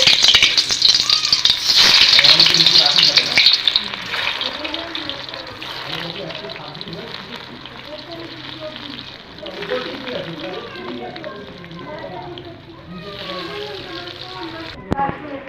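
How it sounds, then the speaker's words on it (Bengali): Potatoes hit hot mustard oil with a loud burst of sizzling that settles into a steady, quieter frying hiss while a voice talks over it. "তেল গরম হয়ে গেছে গরম তেলের মধ্যে দিয়ে দেবো আলু"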